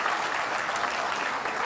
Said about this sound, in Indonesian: Kita beri tepuk tangan untuk Pak Anies Rashid Baswedan.